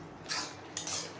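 A spoon scrapes and clinks in a pan twice as papaya chutney with cashews and raisins is stirred, two short close metallic scrapes over faint background hum.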